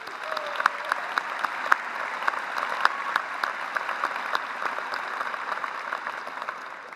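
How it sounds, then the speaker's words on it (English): Steady applause from a commencement ceremony audience fills the room, a dense continuous clatter of many hands clapping with no talk over it. "Please join me in giving them another big round of applause."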